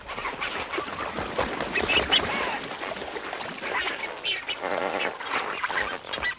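A dense flock of greater and lesser flamingos at an African watering hole honks and chatters continuously, many overlapping nasal calls forming a noisy, busy chorus.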